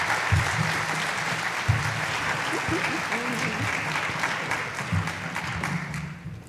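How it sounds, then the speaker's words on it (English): A book festival audience claps steadily in dense, continuous applause that lasts throughout, with a few voices faintly audible beneath it. "Please give them a warm round of applause."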